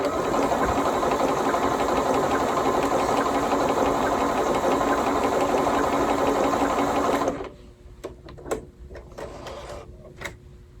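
Bernina 335 sewing machine stitching a mirror-image pattern, a loud, close, rapid buzzing hum that runs steadily for about seven seconds, then stops abruptly, followed by a few light clicks and taps.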